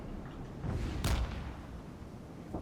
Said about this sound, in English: Looks like mortar fire